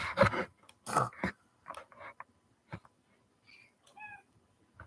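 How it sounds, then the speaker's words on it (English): A house cat meows several times in short, close bursts, with a few softer mews and small rustling sounds between them, some of the calls rising in a thin, tonal way toward the end. "Crazy cat."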